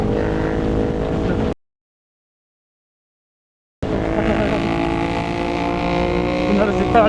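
A Ducati motorcycle engine passes in Los Angeles traffic, a loud, steady near roar that cuts out completely for about two seconds and then resumes with rising harmonics, mixed with wind noise.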